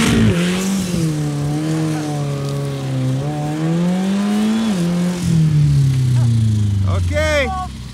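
A Pontiac G6 car engine revving and accelerating toward a jump, a loud, continuous engine drone that rises and falls in pitch, with people talking over it and a brief squeal near the end.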